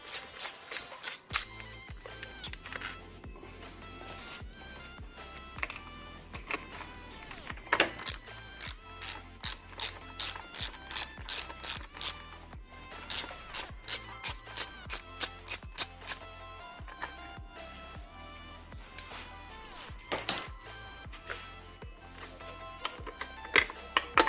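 A ratchet wrench clicks as two bolts are taken off a Subaru turbo inlet cap. Repeated bursts of sharp, close ratcheting come in quick runs with short pauses between them.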